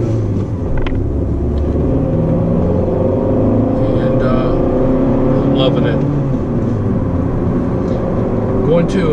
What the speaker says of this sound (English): we're taking a nice little ride in the country on a beautiful fall day